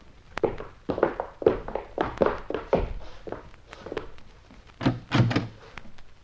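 In a radio drama, a wooden cabin door is handled: a series of knocks, thuds and clunks from a latch and hinges, close and fairly loud, with scuffling steps and no speech.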